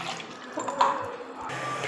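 Water pours into a bowl to wet rice puttu flour, a short, soft splashing stream that swells briefly midway and stays fairly quiet throughout.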